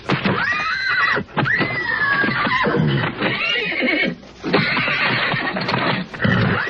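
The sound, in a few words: horse neighing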